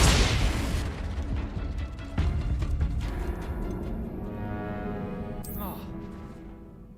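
Fendo spell cast in Hogwarts Legacy: a heavy boom bursts at the start and decays into a rumbling, crackling tail, followed by a second blast and a bright rising magical shimmer near the end, with a voice shouting over it.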